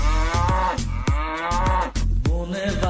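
A cow's low, drawn-out moo sounds within a lively rhythmic song, with steady percussive beats running under it and no talk.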